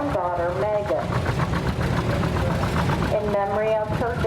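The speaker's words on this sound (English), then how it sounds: "the tractor is being driven by Terry's granddaughter, Megan," An antique tractor fitted with a 6-inch power block chugs steadily through a show parade, its engine running throughout beneath a voice as he talks over it at the start and again near the end.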